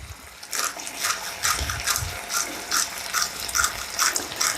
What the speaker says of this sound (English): as the water starts to escape from the noodles, you're going to find that you'll hear that popping sound